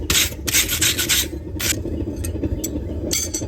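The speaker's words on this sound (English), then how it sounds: "I can wire brush to get all that scale off so the steel is nice and clean" A wire brush scrubbing forge scale off a freshly forged steel chisel makes close, loud raspy strokes in rapid bursts, followed by a few sparser scrapes with no talk.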